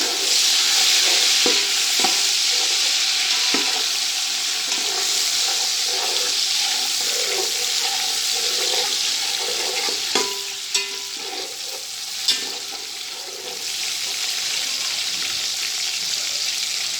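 Chicken sizzles loudly and steadily in a hot pan, with occasional clinks and scrapes of a utensil stirring through it.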